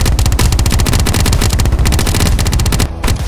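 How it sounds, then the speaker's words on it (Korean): Sustained rapid-fire gunfire in Roblox 99 Nights in the Forest, loud and close, rattling almost without a break before a brief pause and a final short burst. "높은 곳에서 총을 쏘면 쉽게 곰을 잡을 수 있어요"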